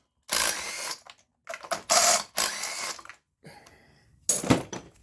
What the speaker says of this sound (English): I'm gonna pull these plugs so I can get it to rotate easier.